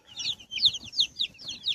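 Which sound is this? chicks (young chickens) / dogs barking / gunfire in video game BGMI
chicks (young chickens)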